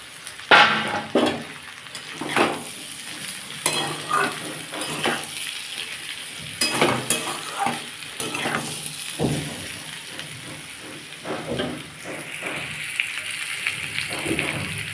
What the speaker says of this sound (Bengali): আমার আলুটা ভাজা হয়ে গেছে আমি এবার ভেজে রাখা পটলগুলো এর সাথে মিশিয়ে দেবো